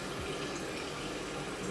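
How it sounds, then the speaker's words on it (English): Water patted and splashed onto a face by hand at a bathroom sink during a skincare wash, a steady close wet rush with no voices. "I just go ahead and I pat water all over my face."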